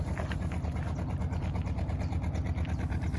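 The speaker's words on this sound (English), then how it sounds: "people are just stirring themselves up, turning the engines over for hot water" Narrowboat engines run early in the morning, turned over to heat water, in a steady low rhythmic chugging. It stays moderately quiet and even, with no talking.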